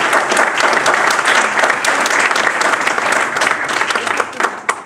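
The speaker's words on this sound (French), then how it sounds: "Alors, vous pouvez les applaudir." A roundtable audience bursts into sustained applause for an organizing team, dense, loud clapping from many hands continuing steadily throughout without talk.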